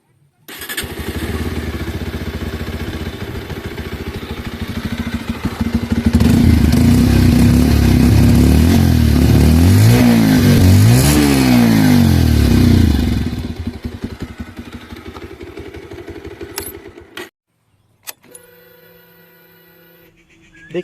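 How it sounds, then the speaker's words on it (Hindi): Bajaj Pulsar Classic 125 motorcycle engine running close by, exhaust note rising into a loud sustained rev with throaty harmonics before settling back to idle and cutting off near the end. "This is the exhaust note."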